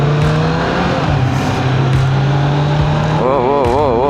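Kawasaki Z900 motorcycle riding on a drive-in beach, engine note droning and wavering as the tires slip on sand, loud and close, with a rider's voice over it.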